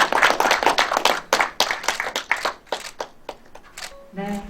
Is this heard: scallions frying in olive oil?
no